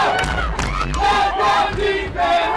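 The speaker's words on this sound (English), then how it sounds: "our crowd getting loud again" Loud American football crowd at an ACFA game between the Brunswick Railroaders and Baltimore Rams, a dense roar of cheering and shouting that swells and stays loud throughout.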